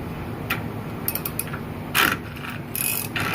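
A half-inch drive ratchet works on the rear axle of a Ford F-350 Powerstroke dually during seal removal, giving several short bursts of close, crisp metallic clicking with brief pauses and no talking.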